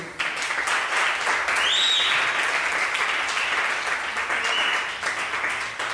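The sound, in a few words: congregation applauding in church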